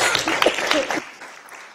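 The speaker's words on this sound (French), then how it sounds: "C'est vrai que ça vaut une bonne main d'applaudissement." Brief applause in a municipal council chamber, a short burst of scattered clapping from a small group that quickly fades to quiet.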